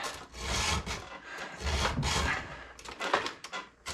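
A metal file rasps against a chainsaw chain while the chain is sharpened after chainsaw carving. Steady, close, scraping strokes repeat in uneven bursts with brief pauses, and no one speaks.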